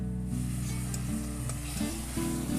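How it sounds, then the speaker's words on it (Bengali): Onions sizzle and fry steadily in a pan after pasta-cooking water is added, a continuous close hiss with soft stirring, no talk. "জলটা দিয়ে একটু পেঁয়াজটা কষে নেব।"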